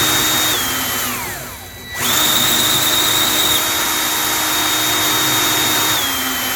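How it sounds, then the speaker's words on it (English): An electric drill runs in reverse, powering an assisted case prep tool with a steady whine that winds down briefly, then spins back up and holds loud and continuous, with no talking. "drill's going in reverse while the tools are turning the correct direction"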